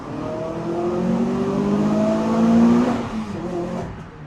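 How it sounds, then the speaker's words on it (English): Naturally aspirated Renault Clio 200 engine pulling hard through second gear inside a tunnel, a loud close rising rev with tunnel echo building then easing near the end. "we're going to do a little second gear pull"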